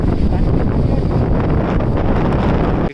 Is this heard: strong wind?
yes